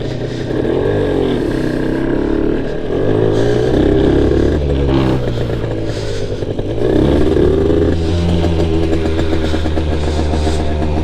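A 1987 Honda NSR50 motorcycle running on the road, its small engine buzzing loud and near with continuous revving that rises and falls throughout.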